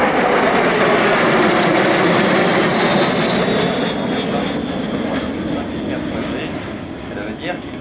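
A training jet at an air show roars through a tight high-speed turn, loud and sustained with a descending whine, slowly fading, while a commentator talks over it.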